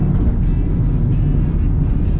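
A Stage 1 tuned Mercedes CLA 45 AMG with all-wheel drive pulls away hard from a launch-control start, its engine roaring loud and steady from inside the car.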